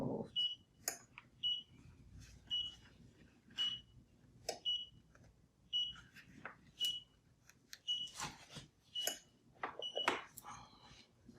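A machine beeps repeatedly at a steady pace while contour-cutting a sublimation transfer, short high tones recurring about every second, with clattering handling noises and brief movement in between.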